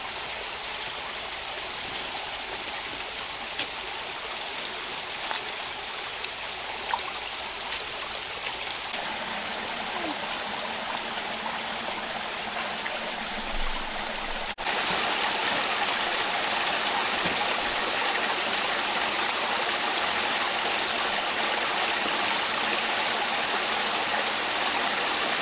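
A rainforest stream flows steadily around a massive flat rock, a continuous broadband rush of water with fine trickling detail that grows slightly fuller and louder partway through, with no voices.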